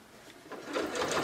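A sewing machine stitches with a rising mechanical whir that builds steadily from quiet to a loud, continuous hum.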